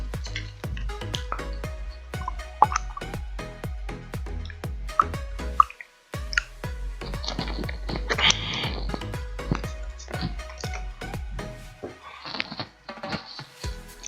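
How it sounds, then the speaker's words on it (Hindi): Person drinking water: a steady run of close, wet gulping clicks in an even rhythm, with a brief break partway through before the swallows resume, no talk. "एक सेकंड मैं थोड़ा पानी पी लूँ"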